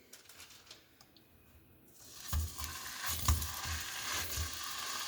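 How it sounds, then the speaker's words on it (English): Food sizzles in hot oil in a pan, a steady crackling hiss that swells after a quiet start, with a few soft clinks. "Now hear that sizzle."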